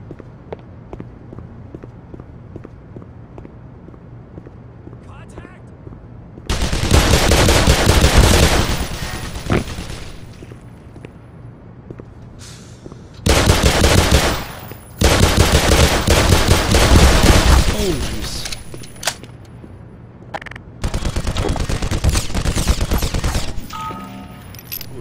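Bursts of rapid automatic gunfire from the video game Black Mesa, several loud sustained volleys separated by quieter stretches of low ambient game noise.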